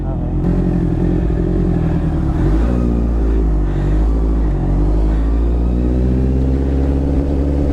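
A Honda CB650R motorcycle engine runs steadily throughout, a loud low rumble with a slight shift in pitch partway through, with voices faintly under it.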